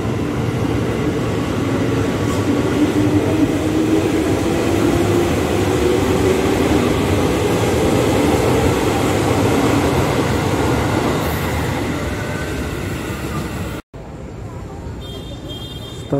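Executive-class night trains passing Gondangdia station on an elevated line, a loud continuous rumble and roar of rolling stock that holds steady for about fourteen seconds, then cuts to quieter station ambience.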